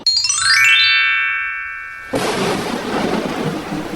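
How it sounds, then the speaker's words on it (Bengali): In a cartoon, a bright sweeping chime gives way to a sudden loud burst of thunder, followed by a steady roar of heavy rain. "দেখো না বাইরে কত জোরে জোরে বিদ্যুৎ চমকাচ্ছে, কত বৃষ্টি হচ্ছে।"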